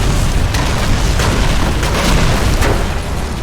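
Heavy explosions and booming blasts from the Call of Duty 3 war game on Xbox 360, with tank fire and artillery strikes, rolling continuously and loud, with dense rumbling low end and repeated sharp bursts over about three seconds.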